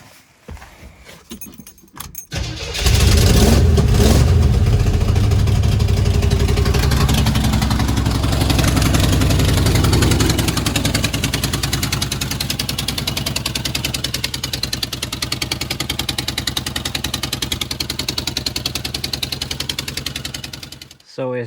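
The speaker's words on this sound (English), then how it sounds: "it has an ear-deafening knocking sound on this side of the engine" A Chevrolet K5 Blazer engine with valve covers back on starts with a cranking burst, then runs loudly with a fast, harsh metallic knocking, rapid and relentless, up close and without talk.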